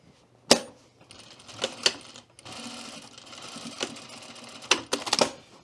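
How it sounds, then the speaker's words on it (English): A sewing machine stitches across the top of a skirt near a zipper, running in short bursts with sharp clicks and pauses between runs, alone without talk. "And we're going to sew across the top here."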